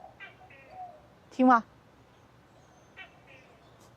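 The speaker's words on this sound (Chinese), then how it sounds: "我们的邻居猫头鹰" An owl calls near a campground in the Miami area with one loud, harmonic call in the middle. Quiet voices talk before and after it.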